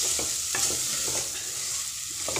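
Dal and spices being sautéed in a pan, a soft continuous sizzle with intermittent scraping stirs, close and fairly quiet, with no voices.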